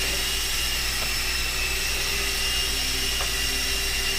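An E-flite Blade MCX Tandem Rescue RC helicopter hovers, its small rotors and motors giving a steady high-pitched whine and buzz that stays even and close throughout, alone without voices.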